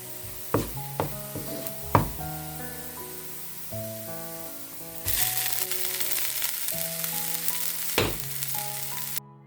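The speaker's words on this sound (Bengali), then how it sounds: "তারপরে এগুলোকে ভালো করে নেড়ে কিছুক্ষণ ভেজে নিতে হবে" Garlic and dried red chillies fry in a pan, with a few sharp clinks of a utensil and scattered taps at first, then a loud, bright sizzle that holds steady as the contents are stirred.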